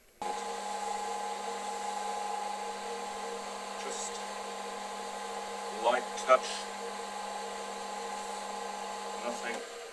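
Steady high-pitched whine of a power sander working a wooden tealight holder, running continuously with brief louder contact moments, while a voice speaks quietly over it.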